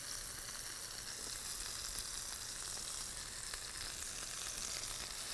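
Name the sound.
lemongrass chicken burger patties sizzling in a pan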